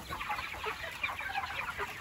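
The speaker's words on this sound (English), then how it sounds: "Lots of chickens there on the sides." Chickens cluck steadily inside a floorless pasture shelter on grass, a dense flock chattering close by with soft overlapping clucks throughout.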